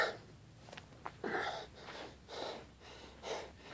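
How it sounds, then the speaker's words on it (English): Someone breathes heavily and is out of breath after exertion with oxygen on, with several loud rhythmic exhales and gasps, close up and with no speech. "I'm almost out of breath"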